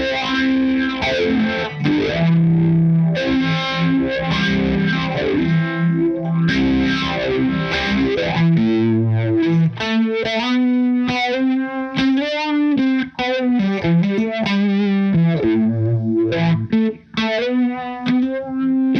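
An electric guitar plays through an EHX Small Stone phaser pedal, strummed chords and then single-note lines with a sweeping, swirling phase effect and some grit, continuous and up close.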